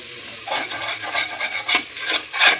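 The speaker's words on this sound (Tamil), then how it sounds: "இஞ்சி பூண்டு நல்லா வதக்கிக்கணும்" Ginger garlic paste being sautéed in a pan for chicken biryani, heard as a steady run of scraping, rasping stirring strokes close up, with no talk.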